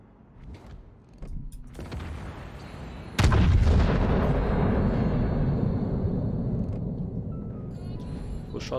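Ship guns of the Izumo battleship fire in World of Warships: a loud, heavy booming salvo hits suddenly and rolls into a long rumbling tail, following quieter mechanical and distant firing noises.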